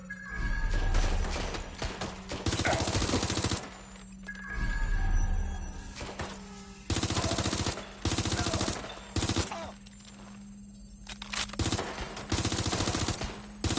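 Bursts of rapid automatic gunfire in the video game Watch Dogs Legion, loud and close, coming in several long volleys separated by short pauses, with a steady game hum underneath.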